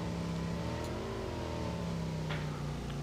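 In the mobile game PUBG Mobile Lite, a motorbike engine drones loud and steady, its pitch wavering slightly as it revs, heard alone without talk.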